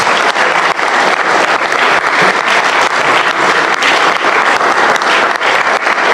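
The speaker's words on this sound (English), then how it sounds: "Let's give Billy a great hand of applause for being back with us." Loud, close applause in the Alabama Senate chamber welcoming Senator Billy Beasley back, dense rapid clapping from many hands sustained evenly for about six seconds.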